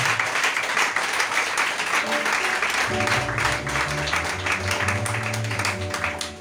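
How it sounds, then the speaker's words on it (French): A church congregation at an evening teaching service applauds in a sustained, loud wash of clapping. Partway through, organ-like keyboard tones and bass notes come in underneath, while the clapping continues to the end. "Est-ce que tu peux donner une pluie d'acclamation ce soir?"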